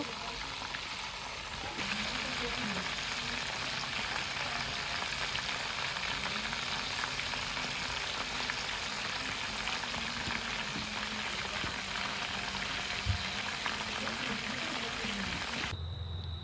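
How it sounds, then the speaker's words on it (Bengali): Steady, loud sizzling of chap frying in hot oil, a continuous crackling hiss that runs unbroken for the whole stretch. "ভাইয়ার চাপটাও প্রায় রেডি সুন্দর মতো ভাজা হয়"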